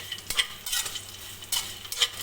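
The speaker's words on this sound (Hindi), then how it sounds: "नट्स जो हैं इनको फ्राई कर रहे हैं।" Nuts fry in a pan for sheer khurma, a sweet Eid dessert, with soft sizzling under close, scraping stir strokes of a spoon repeating every half second or so.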